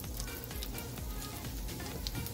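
Whole spices such as cinnamon bark and cardamom crackle and sizzle steadily in hot oil for a Tamil-style fish fry, a close, continuous frying hiss with small pops.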